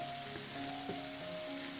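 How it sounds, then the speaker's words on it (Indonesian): Bean sprouts and scrambled egg stir-fry in a pan with oyster sauce and salt, a soft continuous sizzle with faint stirring, low and steady, no voices. "Aduk sampai rata dan tumis sampai togenya layu."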